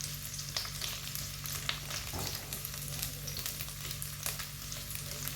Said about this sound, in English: I'm just going to give this a wee stir about with this wee knife here